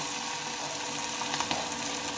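Cabbage pakoras sizzle and crackle steadily in hot oil, a constant bubbling fry with a few sharper pops near the middle.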